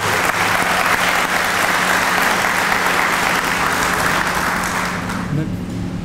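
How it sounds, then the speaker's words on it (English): A crowd at a fire station dedication and ribbon cutting in Pompano applauds the firefighters, a dense, loud, steady wash of clapping that thins slightly near the end, with a voice faintly audible beneath it. "So a round of applause for the firefighters here in Pompano."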